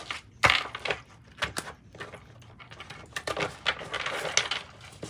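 Tarot cards are shuffled and handled close by, giving quiet, irregular riffles, slaps and taps in uneven bursts. No one speaks.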